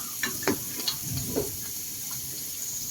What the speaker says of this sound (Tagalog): Magigisa po tayo ng sibuyas.